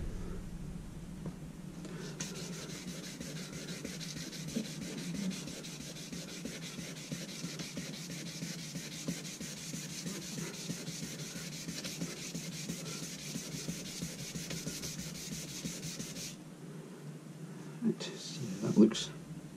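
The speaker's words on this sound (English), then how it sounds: "Just give that a wee rub down." Steady hand rubbing down painted cladding to smooth orange peel in the finish, a soft continuous abrasive scuffing held close for most of the span, fading out toward the end.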